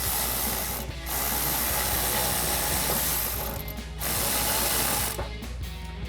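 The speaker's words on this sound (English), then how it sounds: "now we can go ahead and tighten that down using our 8mm socket." A ratchet with an 8mm socket tightens a clamp on a cold air intake for a 2015-2023 Mustang, a fast, loud, continuous clicking of the pawl that pauses briefly twice, with no talking.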